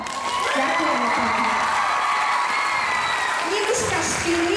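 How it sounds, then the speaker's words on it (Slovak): Loud audience applause with cheering and whoops fills a school performance hall after dancers and actors perform, continuous clapping throughout with a host's voice faintly under it. "Špeciálne by som chcela veľký potlesk"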